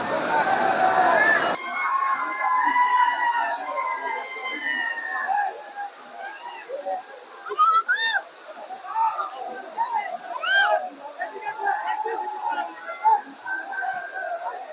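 A waterfall rushes with a steady broadband roar beneath loud, close talking and other voices throughout.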